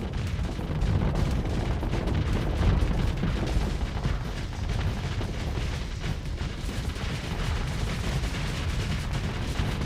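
Missiles slam into a ship in the space game Starsector, a dense, continuous rumble of booming blasts and crackling impacts that stays loud and steady throughout, with no talk over it.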